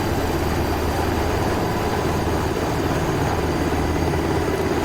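Helicopter in a video game flying steadily, a loud continuous rotor and engine drone with low throbbing that holds level throughout, no voices.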